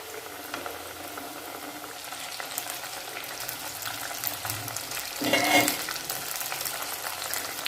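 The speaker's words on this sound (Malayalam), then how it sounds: "നമുക്ക് ചിക്കൻ അധികം ഉള്ളതുകൊണ്ട് നമുക്ക് 2-3 തവണയായിട്ട് പൊരിക്കാനുള്ളതുണ്ട്." KFC-style chicken pieces fry in a pan of hot oil, giving a steady, close bubbling sizzle throughout, with a brief louder burst of spattering midway.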